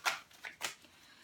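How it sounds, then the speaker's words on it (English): A deck of tarot cards is shuffled up close, with three quick crisp riffles in an uneven rhythm, faint and alone in a quiet room. "I'm first gonna shuffle a little bit more until I feel, okay,"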